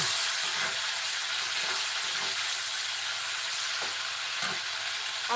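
Shrimp sizzle and fry in a hot pan for a Bengali shrimp bhuna, a steady, dense hiss with faint stirring scrapes and no talking.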